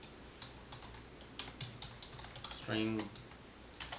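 Keys clatter as Java code is typed on a computer keyboard, quick irregular clicks close by, with someone briefly speaking partway through.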